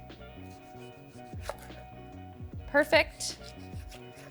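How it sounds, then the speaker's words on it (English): Knife slicing heirloom tomatoes, green ones among them, into quarter-inch rounds, giving a few crisp close cuts over soft background music, with a brief spoken word. "we're slicing up our green tomatoes right now"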